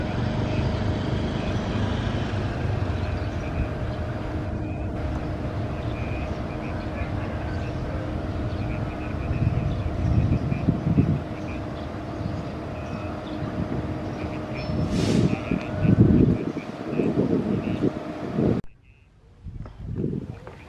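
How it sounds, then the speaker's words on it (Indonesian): A parcel freight train at Leles station in Indonesia, its steady rumble and hum building toward departure with louder clanking bursts near the end before cutting off; a voice speaks over it briefly. "Sebentar lagi parsel selatan akan kembali diberangkatkan."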